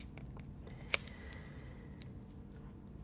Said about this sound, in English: We'll go back to the original scissors.